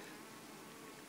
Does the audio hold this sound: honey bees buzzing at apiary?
yes